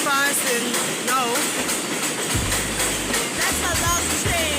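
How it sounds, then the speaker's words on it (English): A train rumbles past close by with a steady roar, rhythmic clacking of wheels over rail joints, and occasional metallic squeals, with faint voices nearby. "The train actually passing now."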